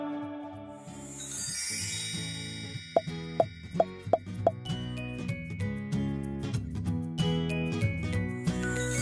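Bright, tinkling chime-like twinkle for a star, a run of short sparkling plinks over sustained music, with several distinct bell-like hits in quick succession mid-way.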